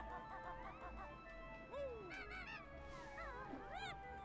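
Goose honks in the Banjo-Kazooie hedge maze: several gliding, swooping honk-like calls over a steady musical game background, repeating through the span at moderate loudness.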